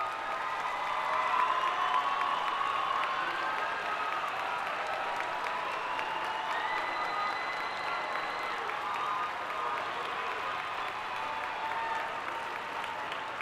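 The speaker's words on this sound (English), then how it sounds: "give you a well-deserved round of applause" An audience at a dual enrollment graduation ceremony claps for the parents in sustained, fairly distant applause that fills the hall evenly, with faint cheering mixed in.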